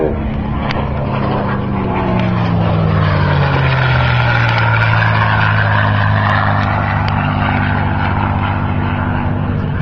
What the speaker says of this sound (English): Here comes the P-51 again. He's smoking.